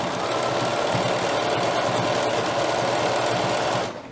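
A sewing machine stitches elastic onto underwear at the leg and crotch seam, a loud, steady close-up motor whir with rapid needle chatter that winds down at the very end.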